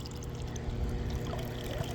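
Warm water pours steadily from the return line of a Beluga solar pool heater installed under a pool, a constant close splashing flow.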